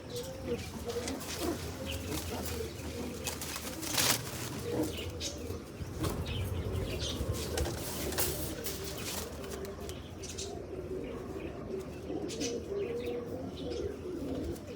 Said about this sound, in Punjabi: ਇੱਕ ਤਾਂ ਆ ਕਬੂਤਰ ਆ ਬਾਬਿਓ ਆਪਣਾ ਵੱਡਾ ਕਬੂਤਰ